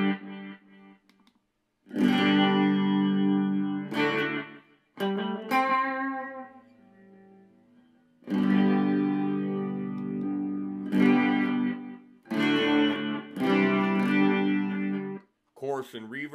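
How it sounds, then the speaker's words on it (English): Electric guitar chords ring out through a Vox DA5 modeling amp with a shimmering chorus and trailing delay echoes, played in several phrases separated by short pauses. "We got chorus and delay."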